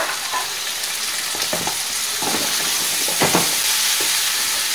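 Chopped tomatoes frying in a wok for a prawn curry with potato and onion, a steady close sizzle with intermittent scraping stirs, no talk.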